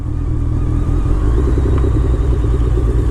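A 2007 BMW K1200R sport motorcycle ridden in the rain gives a steady, close engine rumble with road and wind noise, continuous and loud throughout.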